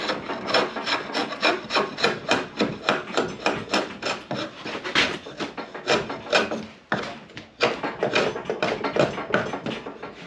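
Draw knife shaving wood by hand to shape a long wooden sword, a close run of rhythmic rasping strokes repeated steadily with one brief pause, no talking.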